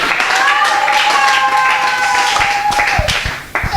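A crowd applauds and cheers for the groom-to-be at a gathering, clapping mixed with loud voices and a sustained shout, close and lively.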